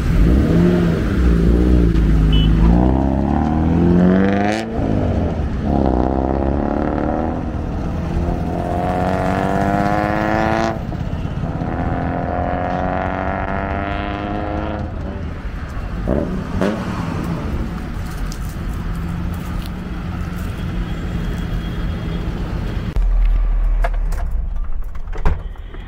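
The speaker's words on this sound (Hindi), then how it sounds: "गाड़ी की टेस्ट ड्राइव लेते हैं और इसका एक रनवे करके देखते हैं कि कैसा इसका लुक आ रहा है" Modified Maruti Gypsy fitted with a performance snorkel revs hard on a test drive, its engine note climbing and falling through repeated loud, close acceleration sweeps with a sharp knock early on, continuous for the whole stretch without talk.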